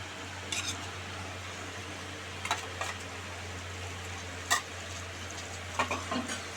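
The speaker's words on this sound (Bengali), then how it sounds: "আদা রসুন পেস্টটা দিয়ে ভালো করে কষা হবে।" Ginger garlic paste and tomato fry in a pan with a low, steady sizzle. A few sharp stirring scrapes break in now and then over a constant fan-like hum.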